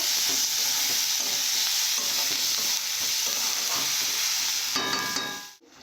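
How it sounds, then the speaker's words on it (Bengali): Spice paste for a Bengali fish curry sautés in a pan, a steady loud sizzle with stirring scrapes throughout, ending with a brief clatter before it cuts off. "এইভাবে কিছুক্ষণ যেন কষে নেব"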